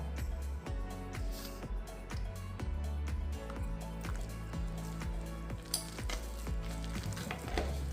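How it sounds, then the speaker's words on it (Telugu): A spoon stirs a thick sweet corn and rice flour batter for crunchy corn garelu, giving steady rhythmic wet strokes close by over a constant low background hum. "ఈ మిశ్రమాన్ని బాగా కలుపుకోవాలి."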